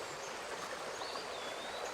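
Swirling river water churns through whirlpools at an ancient water-filtering works on the Min River, a dense, steady rushing wash with a thin bird whistle faintly above it.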